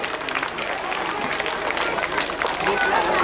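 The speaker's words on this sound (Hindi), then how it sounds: "आप सभी ताली बजाकर उनका स्वागत करें।" An audience claps together at an Indian public school program, a steady dense patter of applause with a murmur of voices underneath.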